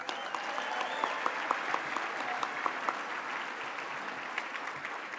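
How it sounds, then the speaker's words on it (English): Steady audience applause at an awards gala, even and continuous clapping throughout with a faint tone pattern beneath. "Let's give them a round of applause."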